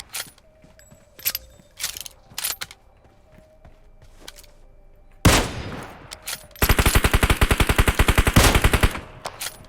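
Close, loud automatic gunfire in PUBG Mobile: scattered single shots, then a heavy blast and a long, rapid burst of rounds, with no talking.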